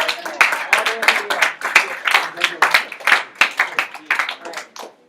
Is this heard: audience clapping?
yes